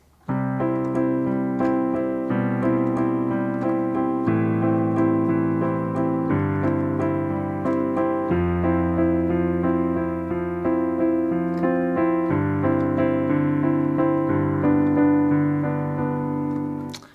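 Sustained piano accompaniment chords from a song, played at a steady pace, each chord changing every couple of seconds, full and resonant with no voices.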